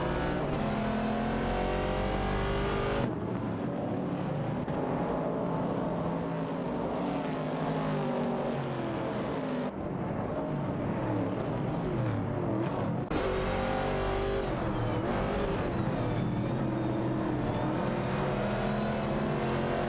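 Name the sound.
race cars such as Chevrolet Camaro and Ford Falcon in racing video game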